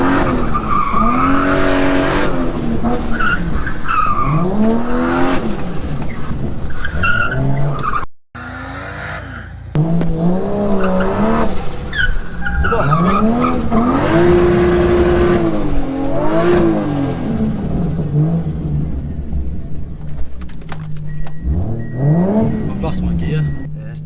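Turbocharged 1JZ Toyota Soarer trying to drift, with loud, close engine revving in rising and falling sweeps and repeated tire squeal, plus a brief drop near the middle, while people talk over it.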